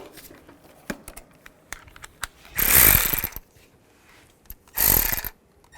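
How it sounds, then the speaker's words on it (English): A ratchet with a 10mm socket removes bolts on a Nissan Xterra. There are scattered sharp clicks, then two loud, close bursts of rapid ratcheting, each lasting about a second. "Use a 10mm socket, take those 3 bolts out."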